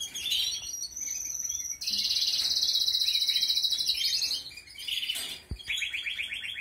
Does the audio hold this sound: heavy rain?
no